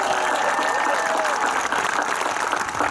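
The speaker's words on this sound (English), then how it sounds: "can we do a big round of applause for the three speakers that we've had so far?" Applause from a graduation audience for the speakers, a dense steady wash of clapping with some crowd murmur, fairly loud and continuous throughout.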